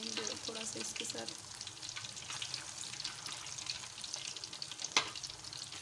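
Fish fries in oil in a pan for a Lahori-style fish fry, a close, continuous crackling sizzle with a sharp pop near the end, no speech.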